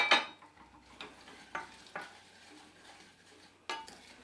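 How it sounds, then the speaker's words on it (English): Ingredients, including washed fruit, stirred gently in a pan until the sugar melts for eggless pancakes: soft scraping strokes and a few light spoon knocks against the pan at irregular intervals, fairly quiet, with no talking. "we just gently stir those in. Until all the sugar melts"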